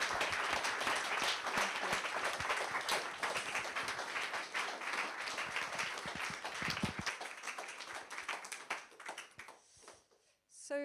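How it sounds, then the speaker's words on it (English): A round of applause for contributors at a Sangha Day Buddhist festival, with many hands clapping steadily and then thinning out toward the end, where scattered claps, taps and a few voices remain. "Can we have a round of applause from all of our contributors?"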